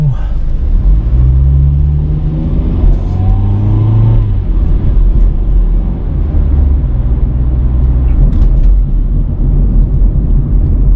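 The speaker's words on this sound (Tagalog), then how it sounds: "Yan, ang dami ng sasakyan, oh." Steady, loud rumble of busy road traffic on a commute to work in Australia, with engines revving and passing vehicles blending into a continuous drone.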